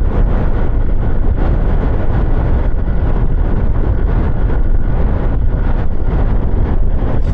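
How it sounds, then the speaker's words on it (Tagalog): Strong mountain-road wind roars continuously into the microphone of a moving scooter in Benguet, a loud, rumbling buffeting that never lets up. "Gagi, lakas ng hangin."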